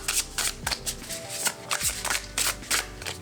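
A deck of tarot cards is riffle shuffled by hand, giving quick crisp ripples of flicking card edges in several short bursts, close and moderately loud, with no talk over them.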